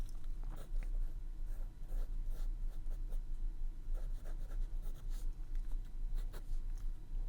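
A pencil eraser rubs away construction lines on paper while Mario is drawn, soft scratchy strokes in an irregular back-and-forth rhythm, close and quiet over a low hum.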